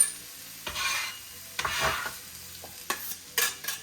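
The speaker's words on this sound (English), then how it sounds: "So we're gonna put our onion in the pan. Ooh, I love the sizzle." Onion sizzles in a frying pan alongside bell peppers for mini sausage quiches, with bursts of hissing and scraping as it is stirred, close up and intermittent.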